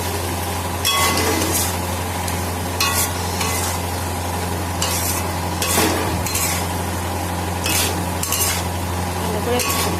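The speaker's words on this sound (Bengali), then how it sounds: "ভালো করে কষিয়ে নিই আলুটাকে।" Potatoes stir-fried with cooked-down spices in a pan for a fish roe and potato curry, a steady sizzle under repeated scraping and stirring strokes, close and continuous with no talk.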